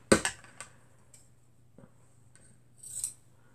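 Metal scissors snip through a quilt to cut it off a quilting frame, with a quick cluster of close crisp cuts at the start, then a pause and a final snip near the end.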